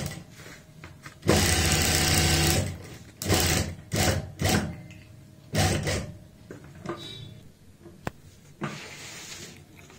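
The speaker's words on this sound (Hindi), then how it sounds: "हम ये सिलाई लगाएंगे किनारी की," A sewing machine stitches along the edge of a handbag in several short bursts of close, whirring mechanical chatter, separated by pauses and small clicks as the fabric is repositioned.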